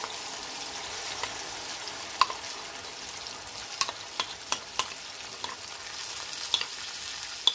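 Chutney is stirred into a cooked pan mixture after the stove is switched off, giving a soft background hiss with repeated sharp spoon clicks and scrapes against the pan, close and without talk.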